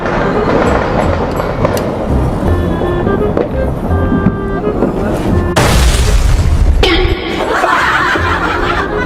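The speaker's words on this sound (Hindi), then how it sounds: "लो बम फोड़ो।" A Diwali firecracker bomb bursts once with a loud, close bang partway through. Laughter and chatter come before and after it.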